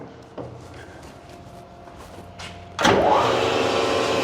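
A Mori Seiki MR-15 engine lathe, a heavy-duty 20"/26" x 60" machine, shifts as its chuck spins up at low speed: a quiet hum with faint clicks, then a sudden loud broadband machine whir that holds steady close by.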